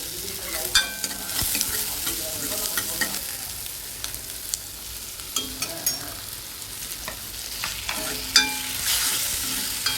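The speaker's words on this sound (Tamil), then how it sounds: "நான் 2 பச்சை மிளகாய் போட்டு பெருங்காயப்பொடி இதையும் சேர்த்து நல்லா வதக்கிக்கோங்க." Green chillies and asafoetida powder sautéing in a pan for traditional kathamba sambar, a continuous sizzle with repeated spoon scrapes and taps, close and alone.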